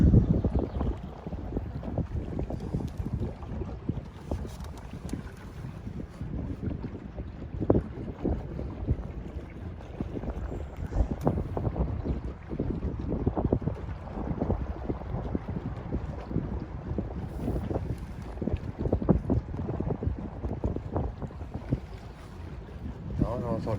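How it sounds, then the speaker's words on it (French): Water lapping and rushing beside an electric boat cruising on the lake at Metz, a continuous churning wash with wind buffeting the microphone throughout, steady and fairly close. "On entend bien le bruit de l'eau."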